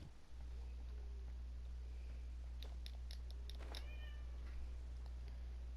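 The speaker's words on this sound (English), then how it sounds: "My cat is crying and I love her, but I don't want to go deal with her." A house cat meows and cries indoors, a few faint, wavering calls cutting through a steady low hum, with no one speaking.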